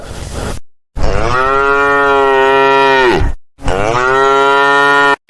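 A cartoon cow in an Islamic children's animation lets out two long, loud, drawn-out moos, the first lasting over two seconds and the second slightly shorter, separated by a brief silence.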